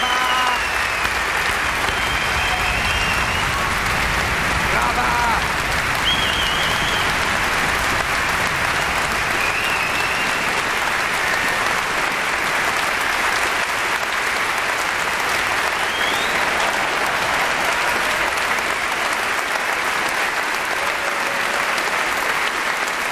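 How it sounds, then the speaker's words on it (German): Thick, sustained applause from a comedy show audience at a Hans Liberg performance rolls on evenly for the whole span, loud and unbroken, with a few faint whistles or calls. "Applaus. Applaus."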